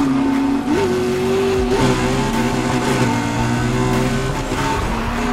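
A car with a manual gearbox drives under steady power, its close, loud engine rising and dropping in pitch as it revs through gear changes, with no talking.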